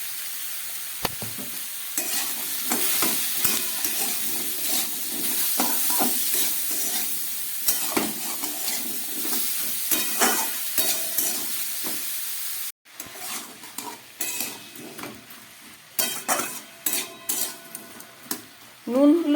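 Bottle gourd cooking in a pan with salt and turmeric, loud repeated stirring and scraping over a constant sizzle, with a brief cut midway and faint talk at times.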